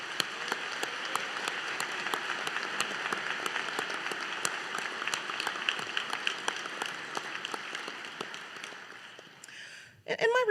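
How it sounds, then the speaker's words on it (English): Graduates at a University of Colorado law school commencement give themselves a sustained round of applause, a dense, even wash of many hands clapping at steady loudness for nearly ten seconds before it fades and a few louder sounds close it out. "give yourselves a round of applause for reaching this day"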